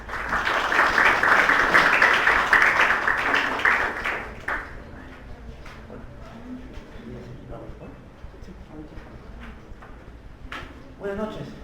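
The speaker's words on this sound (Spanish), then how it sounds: "Los recibimos con un fuerte voto de aplauso" Audience applause welcomes a guest speaker at a university lecture on property registration. It starts loud and dense, then fades after about four seconds into quieter room noise and scattered small sounds.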